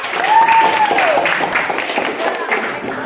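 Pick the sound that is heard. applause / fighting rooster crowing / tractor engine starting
applause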